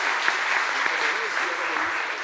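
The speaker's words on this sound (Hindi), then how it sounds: "थैंक यू, तालियां इनके लिए।" An audience at a Rotary district event claps in a steady, dense wash of applause that continues unbroken throughout, with some voices faintly mixed in.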